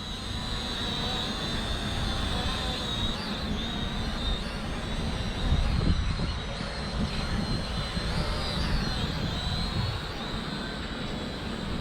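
A small E68 camera drone buzzes continuously in strong wind, a steady whining motor drone with gusty rumble underneath, fairly close and alone.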